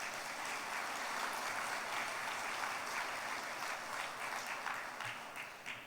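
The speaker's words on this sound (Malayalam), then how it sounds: "ഒന്ന് കൈയടിച്ച് കർത്താവിനെ മഹത്വപ്പെടുത്തുക" A church congregation claps together to praise the Lord, producing a dense, even wash of many hands that holds steady for several seconds, then thins slightly toward the end.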